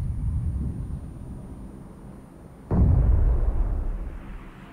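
A grenade goes off in PUBG Mobile, a sudden deep boom midway that rumbles and fades slowly after a low ambient hum.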